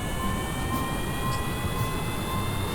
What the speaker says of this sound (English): We also have a part test contract for those Juno jet engines.